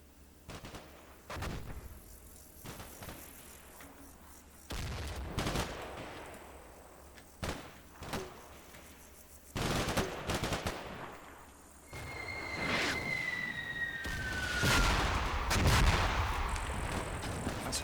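Battlefield sounds from the war game Combat Mission: The Lost Platoon, with scattered gunshots and machine-gun bursts and heavy booms of an artillery barrage, some near and some distant, growing denser toward the end.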